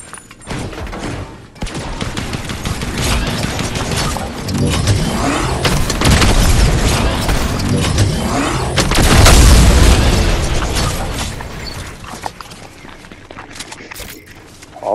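Fortnite gameplay with rapid gunfire and booming explosions, a dense, loud, continuous barrage of shots and blasts, close and without a pause, building to a peak midway before easing off.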